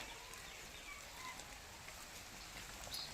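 Steady rain falling, a dense even patter of drops with no voices or other sounds over it.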